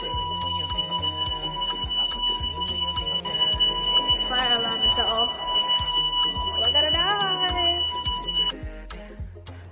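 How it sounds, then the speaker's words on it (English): Building fire alarm going off with a steady high electronic tone and repeating pulses, loud and continuous for most of the stretch before cutting out near the end; people talk underneath it. "And then the fire alarm went off."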